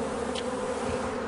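A dense, continuous buzzing of a swarm of about 20,000 bees clustered with their queen, steady and close, with no voices.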